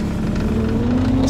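Side-by-side utility vehicle on a doe hunt in Tennessee, its motor running loud and close with a rising engine tone as it pulls away.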